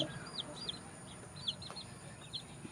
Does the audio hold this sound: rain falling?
no